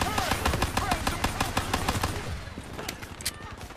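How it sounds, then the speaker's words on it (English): Fast, loud automatic gunfire in Call of Duty Black Ops 3 rattles in a dense burst for about two seconds, then thins to a few scattered, fainter shots. "Which one of you bastards is shooting me?"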